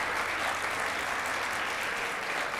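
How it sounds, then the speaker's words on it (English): Sustained applause from an audience thanking student volunteers at a performing arts conference closing plenary in New York, a steady dense wash of clapping throughout with no talking. "Can I have applause for them?"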